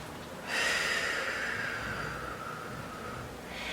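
A long, steady exhale during a standing postnatal Pilates core exercise, close and breathy, lasting about three seconds with no talking.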